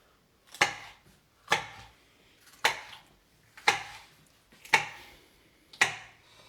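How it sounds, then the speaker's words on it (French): Six sharp knife chops through a bell pepper on a cutting board, evenly spaced about a second apart, close and crisp with no talking. "je vais couper mon paprika que je vais mettre en même temps que l'oignon"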